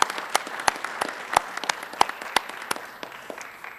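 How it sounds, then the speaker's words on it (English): Applause from an audience at a high school veteran recognition ceremony honoring Korean War veterans: scattered claps ring out in a loose, uneven patter, fairly close and moderately loud. "A round of applause for all of our wonderful veterans who are here today."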